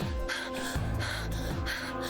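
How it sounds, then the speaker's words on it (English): Heavy, rhythmic panting from a character in the video game Zero Escape: Virtue's Last Reward, a steady run of breathy gasps over a droning game soundtrack. "she's panting"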